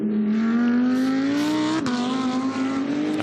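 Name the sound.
Porsche 911 GT2 race car accelerating at Paul Ricard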